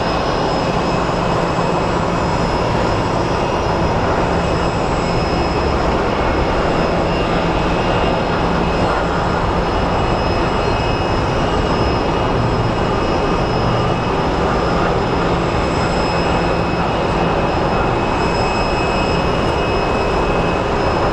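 An American Airlines airliner roars at Sky Harbor Airport, a loud continuous jet-engine drone that holds steady and close for the whole stretch, with no voices over it.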